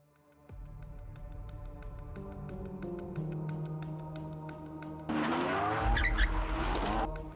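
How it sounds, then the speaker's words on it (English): A supercar loses grip and slides out of its lane toward people standing by the road. A loud burst of tire squeal and skidding comes late, over a bed of steady tonal music. "The car slides out of its lane and crosses into another, where people are standing."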